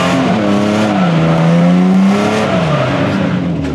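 A car drifts in a steady circle, engine revving hard with a rising and falling tone and tyres squealing continuously, loud and close throughout.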